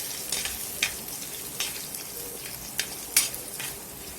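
Finely chopped ginger sautéing in hot oil in a pan for a variety rice, a steady close sizzle with several sharp scraping stirs scattered through it and no voices.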